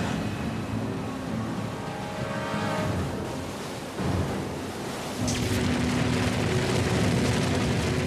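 Heavy ocean waves roll and crash in a continuous loud surge, with a deep rumble and a brief lull before a stronger wash of surf breaks in and keeps churning.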